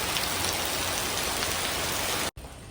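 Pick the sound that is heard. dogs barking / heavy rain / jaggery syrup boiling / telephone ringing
heavy rain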